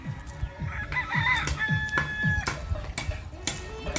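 Chickens and a rooster cluck and crow in a neighbour's coop, with repeated close clucks and a clear crow rising above a busy, lively background.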